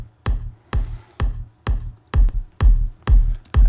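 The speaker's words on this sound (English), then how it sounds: "Like this, the kick sounds a little bit thin, in my opinion" A kick drum in a dance music mix played without the processing plugin, eight evenly spaced thumps with a thin, short low end and little body, alone with no talk.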